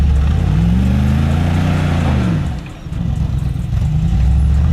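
A Mercedes G63 G-Wagon spinning its wheels on an off-road obstacle, a loud low engine drone rising and falling with revving, dipping briefly before surging again, close by.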